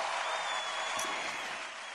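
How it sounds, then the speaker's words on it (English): An audience at a fireside chat panel applauds, a soft steady wash of clapping from a crowd heard at a distance, fading slightly toward the end. "giving you a big round of applause"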